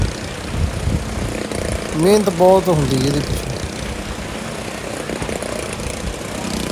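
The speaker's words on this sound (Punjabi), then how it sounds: "ਦੋ ਮੋਟਰਸਾਈਕਲ ਦੋ ਗੱਡੀਆਂ ਚੱਲ ਰਹੀਆਂ ਤੁਹਾਡੇ ਸਾਹਮਣੇ" Two motorcycles and two cars drive in a stunt show at the Chhapar fair at night, making a steady droning engine roar. Someone talks briefly over the continuous engine noise.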